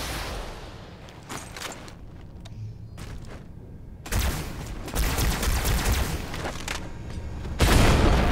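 Halo 2 Anniversary gameplay with a sudden grenade blast and bursts of gunfire, loud and dense in the second half, following quieter scattered shots.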